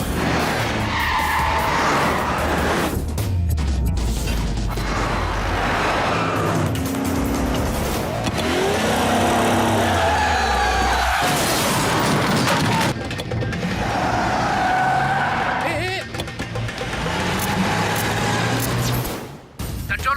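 A car engine roars and tires screech and skid repeatedly as it runs a signal, loud and close, with the vehicle revving hard and tearing off amid bursts of noise.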